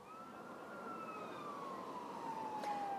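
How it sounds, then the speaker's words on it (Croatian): An ambulance siren sweeps past on a highway blocked by protesting workers near Belgrade, a single long wailing tone drifting down in pitch as it moves away, fairly distant over faint traffic hum. "kola hitne pomoći prolaze"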